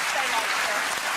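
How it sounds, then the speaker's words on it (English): A television studio audience claps in a short, dense burst of applause, steady and full throughout. "Applause."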